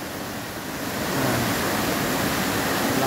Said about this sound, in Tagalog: Ang lakas ng falls.